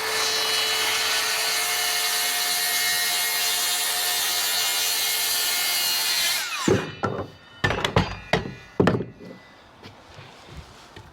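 A long, loud, steady power-saw whine cuts through timber during framing of a window opening, then cuts off, followed by several sharp wooden knocks and clatters as the pieces are handled.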